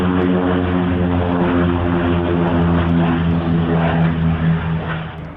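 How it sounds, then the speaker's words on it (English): Loud, steady piston-propeller drone of a P-2 Neptune maritime patrol aircraft passing at an airshow at RAAF Edinburgh, Australia, with strong harmonic engine hum sustained throughout and easing slightly at the end. "An aircraft of similar role, but a very different era now, the P-2 Neptune."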